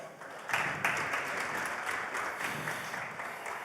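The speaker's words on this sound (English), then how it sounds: "Please, can we give a round of applause?" An audience claps steadily, a full round of applause that swells early and holds at a moderate level throughout.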